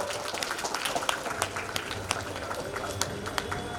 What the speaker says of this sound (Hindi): आप सभी ताली बजाएं, ताली बजाएं आपके हाथों में।